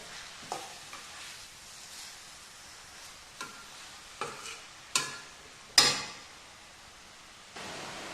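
Grated beetroot being mixed with salt in a pan for pickle: scattered scraping strokes of a spoon against the pan over a soft sizzle, the sharpest scrape near the end.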